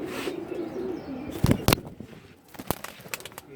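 A silver-necked male Pankhi pigeon gives low, soft coos early on, followed by a few sharp, close clicks or knocks and quieter background noise.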